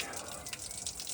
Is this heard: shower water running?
yes